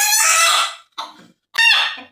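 A rooster kept at a temple site in Hubli crows loudly and close by in three bursts, with a long first call and short clucking notes between, separated by brief silences.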